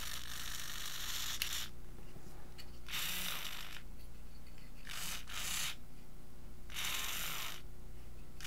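A metal-gear servo motor driven back and forth by a servo tester whines in four distinct bursts, each about a second long with short pauses between, close and steady over a constant low hum.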